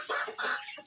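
A Misri rooster and hen cluck in two or three quick, close, loud bursts in under a second.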